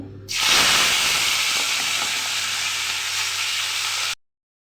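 Oil sizzles loudly and steadily as beans and potatoes hit the hot pan, a continuous bright frying hiss that starts abruptly and stops at the end.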